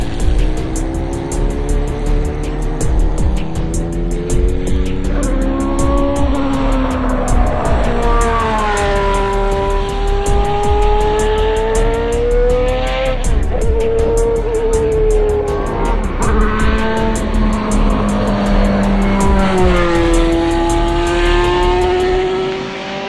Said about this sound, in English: I'm going to drive for 10 laps in an ex-Philippe Streff AGS Cosworth Formula 1 car